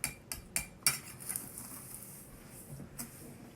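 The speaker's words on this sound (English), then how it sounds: "and mix everything" A utensil scrapes and clinks against a bowl while chocolate chip cookie dough is mixed, a few sharp knocks early on followed by softer stirring, fairly quiet and close.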